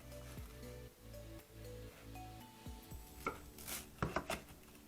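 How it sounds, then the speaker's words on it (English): A knife cuts a toasted cheese sandwich in half, with a few crisp crunching cuts and clinks near the end over a background hum, close but quiet. "Cut them in half with my awesome knife."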